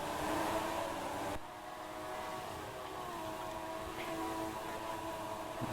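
A train running beside the race track in a racing video game rumbles in a steady, moderately distant drone, with a brief louder rush at the start before settling into a constant hum.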